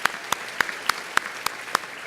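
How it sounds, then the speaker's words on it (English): Applause from the audience at a 118th annual dinner in 2018: a steady run of about eight sharp, evenly spaced claps rings over a wash of crowd noise, with no voices. "Let's give them a round of applause for everything they do for us."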